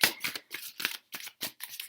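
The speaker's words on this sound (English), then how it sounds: "I'm trying to shuffle on camera" Tarot cards from an Albino-style deck being shuffled by hand, close by, in quick riffling bursts separated by short pauses, with no talking.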